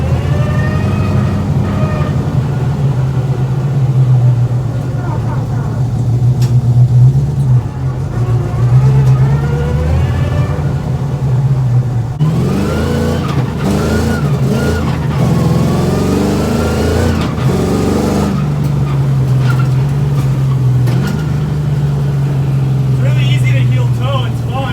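An LS-swapped FRS runs a lap with a steady, loud engine drone and revving throughout, building into a harsher tire-roasting burst in the middle, with voices talking over the noise.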